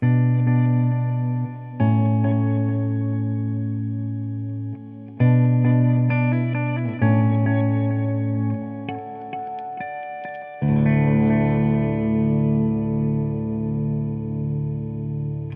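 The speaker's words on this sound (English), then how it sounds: "Let's just dial up the level so we can really hear that shimmer." Sustained electric guitar chords through a Blackstar Dept. 10 AMPED 2 amp with a lush shimmer reverb tail, bright overtones ringing above, played alone in several held phrases.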